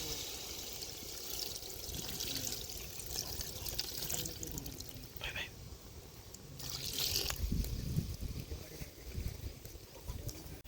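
Water poured from a jug into a pot of Andhra-style stuffed eggplant curry, a steady splashing pour with trickling that swells near the end, close and moderately loud.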